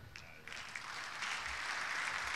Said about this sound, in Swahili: Makofi tena, tuongeze wana VETA, tuongeze makofi mengi sana.